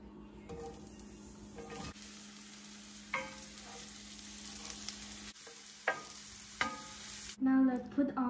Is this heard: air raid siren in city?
no